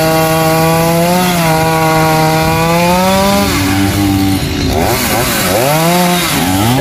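A Stihl 382 chainsaw cuts into a large tamarind tree, its engine loud and close, holding a steady high whine before bogging and revving in wavering pitch as the chain bites through the wood.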